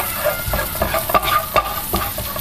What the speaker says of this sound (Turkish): Sarımsaklarımı bu tereyağın içerisinde şöyle azıcık kokutup eritiyorum.